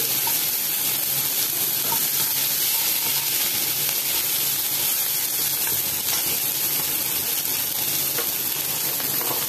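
Garlic and green chilli fry steadily in hot oil in a pan for a fish recipe, giving a loud, continuous close sizzle that stays even throughout, with faint stirring underneath and no voices.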